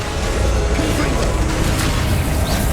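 Blasting Confringo spell explosion in the Hogwarts Legacy video game, a dense continuous roar of booming blasts and rumble filling the whole stretch, loud and close with steady intensity.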